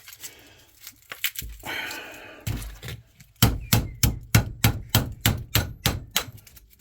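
Metal hammering on an old transformer being scrapped for copper: scattered knocks and scraping at first, then a loud, close series of about a dozen sharp, evenly spaced blows.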